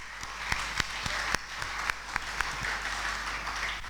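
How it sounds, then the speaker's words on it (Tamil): Scattered applause from a church audience at a Christmas carol service, thanking the carol singers, with sharp individual claps standing out over a soft, fairly distant clapping bed. "கைதட்டுமா உங்களுக்காக"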